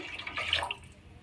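Half a glass of water poured into a cooking pot of soaked old rice for sweet pulao, a short soft splashing trickle close by with no talk.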